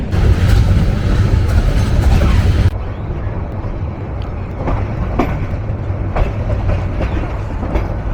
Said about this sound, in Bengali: ভাটিবাংলার রাজধানী মোহনগঞ্জ থেকে আন্তনগর মোহনগঞ্জ এক্সপ্রেস এখন বাংলাদেশের রাজধানী